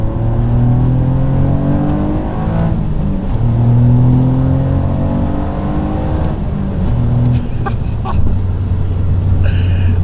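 A modified Toyota GR Yaris with four-wheel drive accelerates hard through repeated gear changes, a loud engine note climbing, dropping and climbing again, with a few sharp whooshes and whirs near the end.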